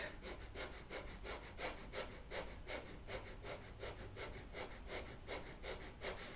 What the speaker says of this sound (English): I'm purposely breathing a little loud so you can hear the pattern